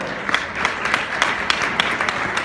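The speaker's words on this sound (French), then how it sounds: "Alors j'aimerais qu'on applaudisse Annie-Josiane Sessou" An audience at an award ceremony in Québec applauds, giving steady, close clapping with sharp individual claps standing out from the dense patter, a voice murmuring faintly beneath.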